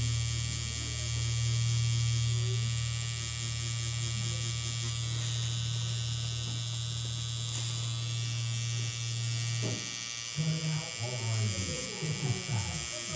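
A tattoo machine drones steadily while tattooing dark skin, a close, constant electric buzz with hum running for about ten seconds before it stops and brief talk follows.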